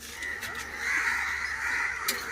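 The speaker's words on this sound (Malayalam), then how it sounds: "കാക്ക നോക്കിയാ നമുക്ക് ചുറ്റും പറഞ്ഞോണ്ടിരിക്കാണ്" Several crows caw repeatedly nearby, their harsh calls rising over a steady outdoor background.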